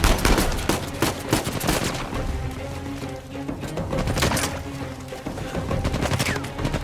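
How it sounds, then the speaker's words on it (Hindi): Machine gun fire in the video game Uncharted 4, dense overlapping bursts of rapid shots that are loud and close, with booming impacts running through the whole stretch and no voices. "वो मशीन गन से मार रहा है हमें"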